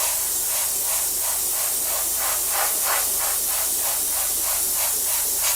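An airbrush sprays paint onto a Trumpeter 1/32 F-14D Tomcat scale model, giving a loud, continuous close-up hiss with a faint pulsing texture throughout.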